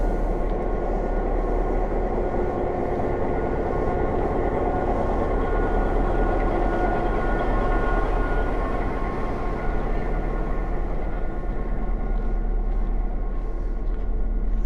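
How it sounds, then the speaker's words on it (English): Adirondack Scenic Railway GP10 diesel locomotive, number 6076, heard trackside as a steady, loud low rumble with engine drone and humming tones that hold constant throughout, no voices. "they're running 6076, which is their Adirondack Scenic Railway GP10"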